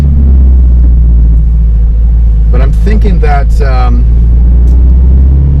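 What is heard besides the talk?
car engine revving, exhaust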